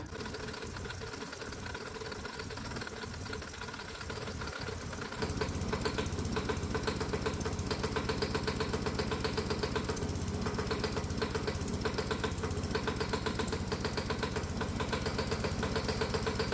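A hot bulb semi-diesel lawnmower engine runs on an alcohol-water mix, a steady mechanical chugging and knocking that grows louder and denser after about five seconds and continues alone with no talk.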